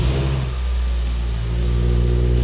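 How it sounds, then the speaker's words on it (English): A naturally aspirated Mazda Miata NC engine running close by just after starting, a steady mid-pitched hum with low rumble holding even throughout. "Starts up, just like normal."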